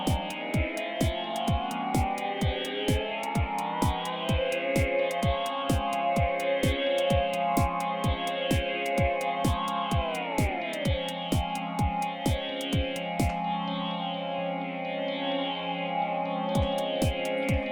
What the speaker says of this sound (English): That's the reverb send on the bottom.